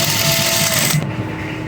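A sewing machine runs briefly while stitching a round garment neckline, a close, fast mechanical whir that stops abruptly partway through.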